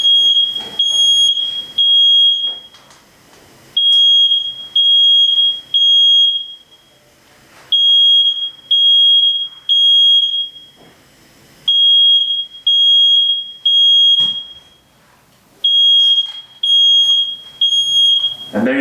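Smoke alarm sounding indoors near gas and electric stove burners, a loud piercing electronic tone in repeated bursts of three beeps separated by short pauses.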